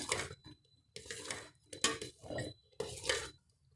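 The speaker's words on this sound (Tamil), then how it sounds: "நல்லா கலந்து விட்டுக்கோங்க." Metal spoon scraping and clinking against a pot while ghee is mixed into cooked rice for milk sugar pongal, in four separate bursts of close, bright stirring with short pauses between.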